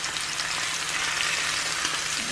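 Chicken breast searing in a hot pan, a steady close hiss and crackle of oil sizzling without pause.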